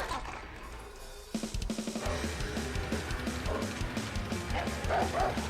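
Dogs barking and yipping in the video game Far Cry 6, a fairly loud run of repeated barks over a busy game soundscape that starts after a quieter opening second.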